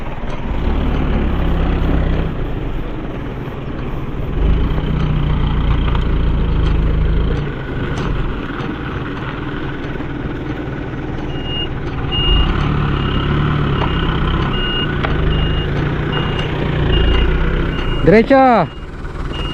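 A dump truck at a fence-building site, its diesel engine rumbling steadily close by for the whole stretch. Near the end a quick burst of reversing beeps sounds out, and people talk now and then over the engine.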